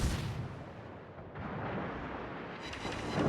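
Ship guns firing in a naval battle video game, a continuous dense rumble of heavy blasts and booming reports rolling together for a few seconds, loud and broadband with no voices.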